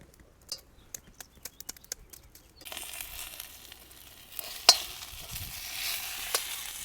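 Peanuts and onions sauté in oil in a pan: a few sharp scraping clicks of stirring come first, then a soft, steady sizzle with occasional pops sets in and continues at low volume.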